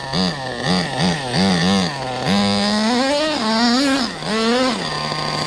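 Schumacher Havoc 28 big block nitro stunt truck engine revving up and down in repeated bursts, its high buzzing whine rising and falling in pitch, loud and close throughout.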